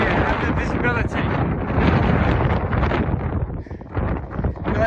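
Strong wind blasts across a hilltop near Cadair Berwyn and Moel Sych, roaring steadily and loudly over the microphone in gusting waves throughout.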